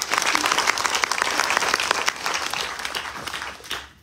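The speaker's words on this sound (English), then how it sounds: "Another round of applause for him." Audience applause fills a temple hall during a Ganesh Chaturthi celebration, a dense, steady clapping that holds for about four seconds and then thins out toward the end.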